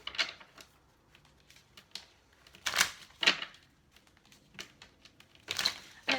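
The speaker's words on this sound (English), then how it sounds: "I'm going to pull from the Island Time Wellness Love Oracle cards here" Cards from an Island Time Wellness Love oracle deck being pulled and shuffled, giving scattered soft papery flicks and crinkles with a few sharper snaps, close and quiet with no talk.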